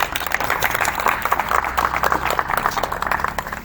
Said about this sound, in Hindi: नेक कार्य के लिए जोरदार तालियां बजाइएगा प्लीज़